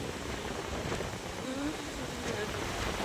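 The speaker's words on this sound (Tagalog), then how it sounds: "Ayan po, ang lalaki na po ng alon. Lakas ng hangin." Strong typhoon wind roaring at a seaside resort with big waves crashing, a steady, dense, close rush of noise filling the whole clip.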